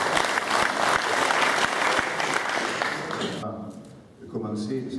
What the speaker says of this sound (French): Simplement, vous pouvez les applaudir.